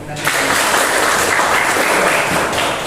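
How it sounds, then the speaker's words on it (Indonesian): A classroom of students claps hands together in an Indonesian school lesson, a loud, brisk burst of applause that starts abruptly and holds steady for a few seconds before tapering. "Tepuk tangan dulu."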